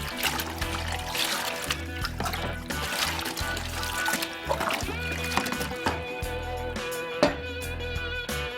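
Sanitizing solution is poured from a measuring cup or pitcher into a plastic fermenter, a continuous splashing trickle of liquid with a sharper splash near the end.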